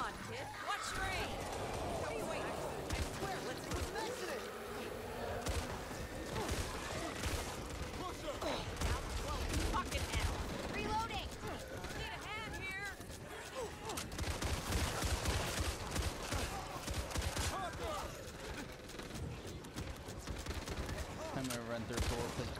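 Rapid video-game gunfire bursts and crackles throughout, a dense, busy barrage of shots with mechanical clatter, while people talk over the action.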